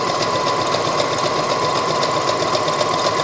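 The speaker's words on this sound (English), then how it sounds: "And I'm gonna just zigzag that." A sewing machine zigzag-stitches the edge of a pocket flap, a steady, close, rapid whirring hum with no pauses.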